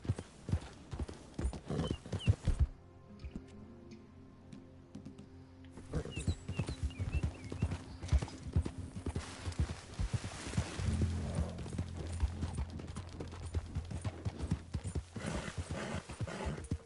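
Horse galloping in Red Dead, rapid rhythmic hoofbeats that stop briefly for a quieter pause, then resume with a whinny and continued clip-clop under game ambience.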